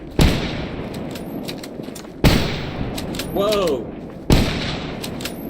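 Three loud, sharply separated gunshots in the post-apocalyptic shooter S.T.A.L.K.E.R. GAMMA, each ringing out with an echoing tail, while a man exclaims between them.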